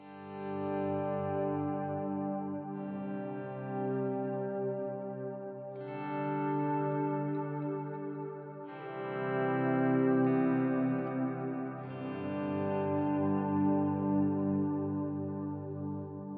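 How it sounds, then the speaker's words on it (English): Volume-swelled electric guitar chords pass through a Line 6 Helix with reverb, dotted-eighth and quarter delays and a tremolo added, giving slow, pulsing sustained tones with echoing tails that shift chord every few seconds, with no talk. "If I wanted to get a little weird, I could throw on the tremolo as well."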